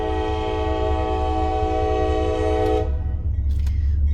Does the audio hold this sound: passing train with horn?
yes